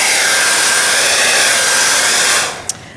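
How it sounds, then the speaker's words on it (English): Blow dryer drying watercolor paint roars loud and steady with a broad, even whoosh, close up for over two seconds before shutting off, followed by a single small click. "I try not to use the blow dryer too much"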